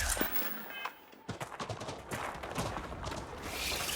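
Gunfire in the space game Starfield crackles in quick bursts and scattered shots after a brief lull, mixed with in-game movement noise while someone talks over the action.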